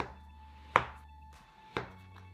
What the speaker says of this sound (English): Now let's slice these in half to make them look like actual watermelon slices.